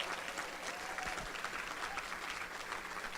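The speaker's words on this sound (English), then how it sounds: "Let's give a big round of applause for Steam Station for their outstanding contributions" Steady audience applause for Steam Station at a chamber of commerce annual meeting, dense and continuous clapping filling the room from start to finish.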